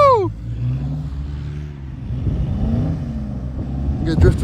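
A Jeep drifting across a snowy parking lot hums and revs at moderate distance, its engine rising and falling under excited shouting and talk from people nearby.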